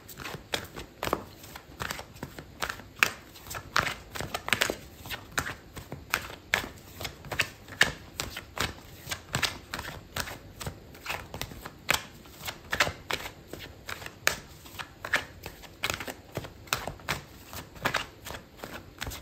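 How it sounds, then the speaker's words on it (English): Tarot cards are shuffled close up in a steady run of crisp riffling and slapping bursts, repeating irregularly throughout with no talk. "Okay, so I'm gonna pull out another card for you."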